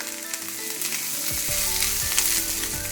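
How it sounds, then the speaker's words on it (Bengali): Chopped capsicum and green chilli go into a pan of lightly fried onions and sizzle steadily, a loud continuous crackle with occasional clinks from stirring and no voices. "এবার আমি এর মধ্যে কেটে রাখা ক্যাপসিকামগুলো দিয়ে দিচ্ছি সেই সাথে লঙ্কা কুচিও দিয়ে দিলাম"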